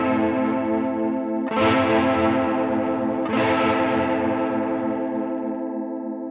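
Electric guitar through a Line 6 Helix chorus effect, two strummed chords each left to ring, first with a saw-up then a saw-down waveform, giving a lush wavering shimmer with no talking.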